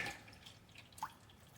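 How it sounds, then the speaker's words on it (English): Boiling hot water dripped onto a bicycle frame tube while fitting bottle bosses, heard as a faint drip and a brief splash at close range in a quiet room. "Carefully dripping boiling hot water on my lap."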